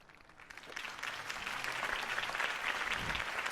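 A crowd breaks into applause in Batman: The Telltale Series, applause that swells and holds steady, a dense patter of clapping from many hands at a moderate distance.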